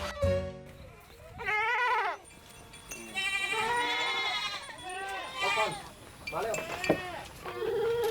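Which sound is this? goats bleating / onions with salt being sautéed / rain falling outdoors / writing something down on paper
goats bleating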